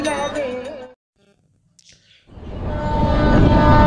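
Local train on the Namkhana line near Lakshmikantapur, a loud rolling rumble of wheels and carriages that swells after a quiet gap, with a voice talking at the start.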